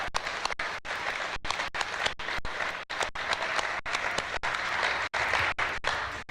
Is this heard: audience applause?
yes